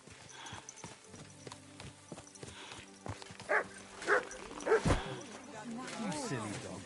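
Horse hooves clip-clop in a steady rhythm in Kingdom Come Deliverance 2, joined midway by several sharp dog barks close by, over quiet game ambience.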